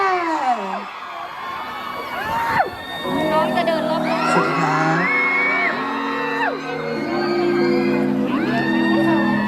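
A concert crowd at Hat Yai screams and cheers loudly with long, high whoops and shrieks overlapping, while a voice speaks over the noise.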